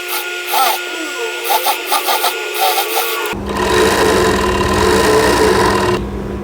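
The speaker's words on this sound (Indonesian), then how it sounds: "Sekarang kita menjahit bagian rok bawah ya" An electric sewing machine stitches the lower skirt of a girl's gathered babydoll dress in short stuttering bursts, then settles into a steady, louder continuous run close by.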